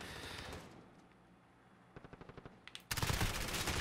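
Call of Duty Modern Warfare multiplayer gunfire on the Backlot map: a burst of rapid automatic shots, then a few spaced cracks, breaking into a loud, dense volley at the end.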